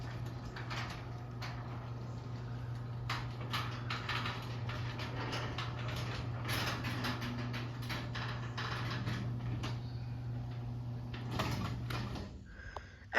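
A Chamberlain garage door opener on a pan-style garage door runs with a steady low motor hum and rattling, clanking mechanical noise, fairly quiet and continuous until it stops near the end.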